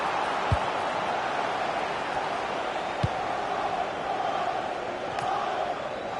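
A steady wash of stadium crowd noise fills a football match in FC 26, a broad continuous roar with a few soft thuds and no voices standing out.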